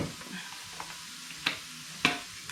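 Food browns in a pan at a campsite, a soft, steady sizzle under quiet surroundings, punctuated by two sharp metallic clinks of a utensil against the pan.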